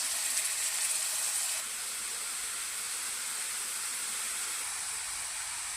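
Onion paste frying in hot oil for masala bhindi: a steady, bright sizzling hiss that runs the whole time, a little louder at first, then settling to an even crackle with no talk.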